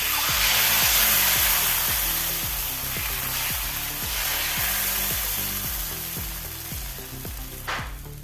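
Rice-flour dosa batter sizzles steadily on a hot pan, a continuous loud frying hiss with faint scraping taps from a spatula, and no voices.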